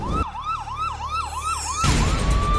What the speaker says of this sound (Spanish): Las sirenas de la Cruz Verde de Mexicanos lloraron